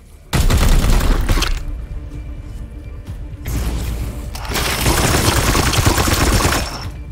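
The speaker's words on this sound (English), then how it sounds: "Opening fire!" Squad gunfire from a Warhammer 40K Chaos Gate – Daemonhunters firefight: loud sustained bursts of automatic fire and booming shots, a brief lull midway, then another long heavy volley, no voices.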